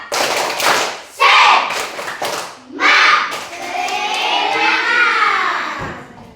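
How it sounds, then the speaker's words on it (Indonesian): Schoolchildren in a classroom perform a rhythmic spirit clap: sharp patterned claps and thuds in quick groups, mixed with the children's chanting voices that carry on after the clapping ends. "tepuk semangat"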